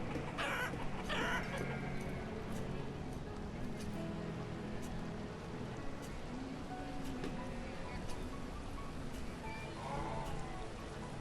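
Chickens cluck now and then in the Banished village-building game, soft game sounds running under someone talking steadily throughout.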